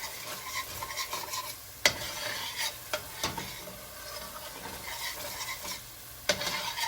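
A spoon stirs potato shorba frying in a pot, scraping against the metal with occasional sharp clinks over a constant soft sizzle, close and fairly quiet, with no talking.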